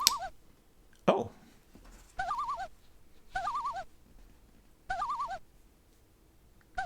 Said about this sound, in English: That's a bird. It's very noisy.